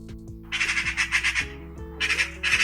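Magpie chattering in rapid bursts of harsh, rattling squawks, loud and close, in several clustered runs separated by brief pauses.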